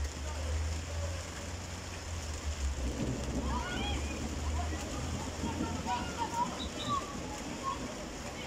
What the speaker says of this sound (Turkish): Evet, yağmur da başladı.